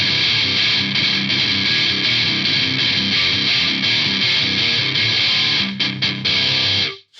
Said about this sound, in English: an example of what a hollow distortion sounds like